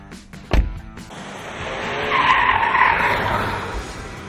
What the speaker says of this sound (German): wird man jetzt gleich ein Reifenquietschen hören